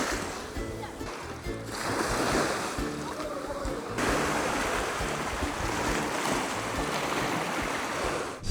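Sea waves washing onto Stavros sandy beach on Donoussa, Greece, a steady loud surf wash with wind noise, continuous throughout.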